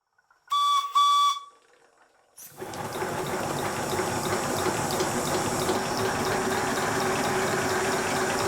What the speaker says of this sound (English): The rest of this video shows the engine running on very low pressure compressed air, as you can hear by how feeble the whistle is.